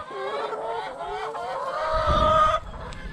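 A flock of free-ranging hens cluck and call, with overlapping rising and falling squawks close by and steady background noise from the birds.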